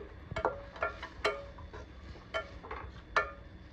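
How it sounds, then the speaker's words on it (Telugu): Chopped tomatoes being mixed in a cooking pot for a millet egg biryani, heard as a series of spaced metal clinks and scrapes of a spoon against the pot, fairly close but soft. "ఇప్పుడైతే వీటిని బాగా కలిపేసుకొని ఒక 5 మినిట్స్ మగ్గించుకోవాలి"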